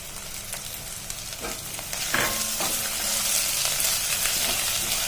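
Chopped onions and fresh ginger garlic paste fry in a pan with a steady, close hiss and crackle, broken by a few scraping stirs, and the sizzle grows louder partway through.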